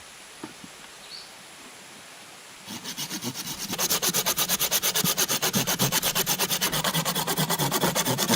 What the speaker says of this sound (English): she cuts thin branches for the roof, lightweight but strong